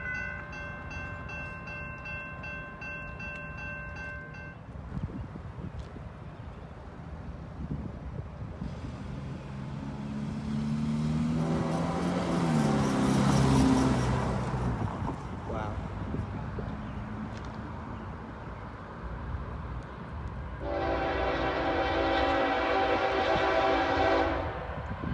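A train on the CSX line at Flint station sounds its horn in long, loud blasts at the start and again near the end. In between, the heavy rumble and wheel noise swell as the train passes close by.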